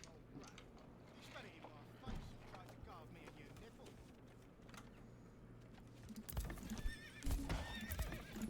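Horse sounds in the medieval strategy game Manor Lords: soft clip-clopping hooves and a whinny amid faint ambient game noise, someone talking over it, with louder thuds and clatter near the end.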